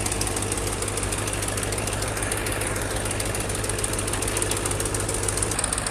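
Engines of large sand-carrying trawler boats on a river produce a loud, continuous, close diesel drone with steady knocking pulses and a strong low hum.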